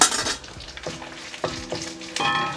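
Four whole dried red chilies with cumin frying in hot oil for a chana dal curry, a steady close sizzle broken by a few sharp pops and crackles as spices hit the pan.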